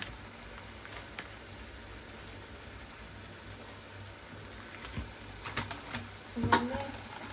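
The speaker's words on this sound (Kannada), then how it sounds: "ಇದೇನ ಚಿಕನ್ ಫ್ರೈ ಆಗುತ್ತೆ? ಸ್ವಲ್ಪ ಫ್ರೈ ಆಗೈತೆ." Chicken frying in a pan with garlic paste and garam masala, a low steady sizzle broken by scraping stirs that grow louder toward the end, with no talk.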